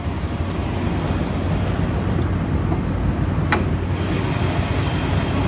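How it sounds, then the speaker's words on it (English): The Hemi engine of a 2011 Dodge RAM Laramie idles steadily with an even, low rumble, loud and close throughout, under a constant high electrical whine and a faint click. "So this is your Hemi engine, 342 horsepower."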